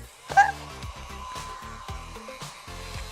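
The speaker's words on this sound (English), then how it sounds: "Okay, let's bring out the hairdryer again." A hair dryer blows steadily at close range during card making, its even whooshing hum running under bursts of music for the whole stretch.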